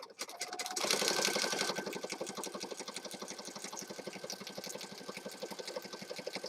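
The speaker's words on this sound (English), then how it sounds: "I will go down this edge with some stitches" A sewing machine stitches steadily down the edge of a handmade Christmas journal, a fast continuous mechanical patter heard alone at close range.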